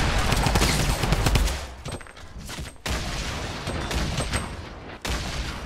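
Gunfire in the Fortnite battle royale video game, with repeated loud shots and bursts mixed with game effects, broken by a few brief pauses.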